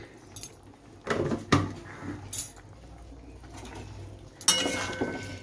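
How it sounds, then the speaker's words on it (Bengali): A spoon stirs sugar into a cooking pot of boiling potatoes, giving a few irregular metallic clinks and scrapes against the pot over a low, quiet background. "এবার এটাকে একটু ভালোভাবে নেড়ে দিচ্ছি"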